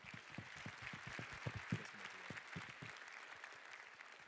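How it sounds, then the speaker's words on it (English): Faint, distant applause from a small group, scattered claps that thin out toward the end, heard at low volume. "Let's give these interviewees a round of applause."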